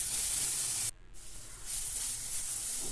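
Chopped tomato and a small piece of ginger frying in a pan on a gas stove, giving a steady loud hiss and sizzle that dips briefly and then returns.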